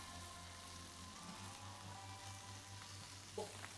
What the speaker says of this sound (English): would you listen to that sizzle?